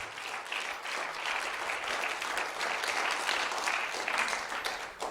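Church congregation applauding, a dense, steady wash of many hands clapping at close range for several seconds with no talk over it.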